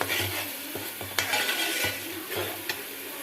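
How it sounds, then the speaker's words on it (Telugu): Onions with ginger paste and turmeric frying in oil in a pan, with steady sizzling and a few scraping stirs and utensil clinks against the pot, close up, no voices. "అల్లం పేస్టు, ఉల్లిపాయలు, పసుపు, తగినంత నూనె బాగా మనం గోల్డెన్ కలర్లో వేయించుకోవాలి."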